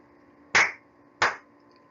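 A pair of crisp, close hand claps spaced roughly two-thirds of a second apart, each with a short decay, heard alone against a quiet background.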